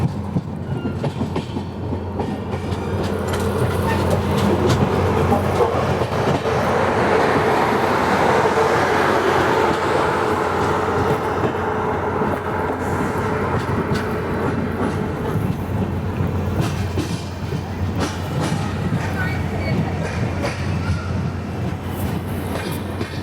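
The Saurashtra Janta Express passenger train rolling on rails, a steady low rumble with rhythmic wheel clatter and faint squeals, heard from onboard for a long continuous stretch without talk.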